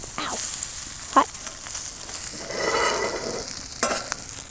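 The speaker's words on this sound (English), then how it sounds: "Okay, we'll make a multi-piece omelette." Egg omelette frying in a hot Lodge carbon steel skillet, with a steady sizzle throughout and a few brief scraping and stirring knocks.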